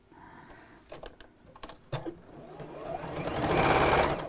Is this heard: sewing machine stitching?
yes